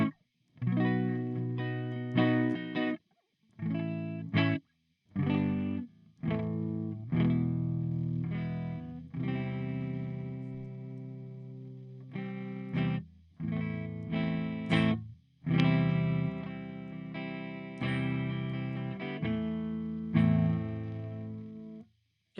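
Electric guitar through an ENGL LE456 amp with the tube screamer switched off plays crunchy, distorted chords and riffs. Short choppy bursts are split by brief gaps, and the playing grows fuller and more sustained later on.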